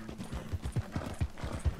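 Horse hooves clip-clop at a steady walking rhythm in the Red Dead Redemption 2 video game, fairly close and moderately quiet, a run of even, dull thuds.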